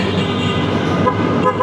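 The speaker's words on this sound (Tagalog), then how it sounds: "Sabi nila, pag dumadaan ka daw dito, kailangan mong bumusina" Yamaha NMAX V2 scooter horn sounding inside the Kaybiang Tunnel, a loud steady toot blending with the boomy roar of the ride echoing off the tunnel walls.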